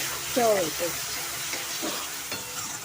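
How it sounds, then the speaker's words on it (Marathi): Onion and tomato fry in oil for a cashew chicken curry, a soft steady sizzle and stirring under a woman's brief speech. "कांदा टोमॅटो हा व्यवस्थित फ्राय करून घ्यायचा, म्हणजे त्याला तेल सुटलं पाहिजे"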